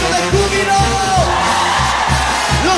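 Women in a church congregation shout and whoop for joy together, a loud crowd cheer layered over a booming, rhythmic band beat with music throughout.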